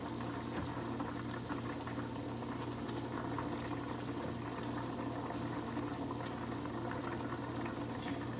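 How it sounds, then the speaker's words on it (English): Pot of turkey meatball soup simmering on a stovetop, a steady low bubbling and hiss that stays even and continuous throughout, moderately quiet with no voices. "I'm gonna let this simmer for about 10 minutes"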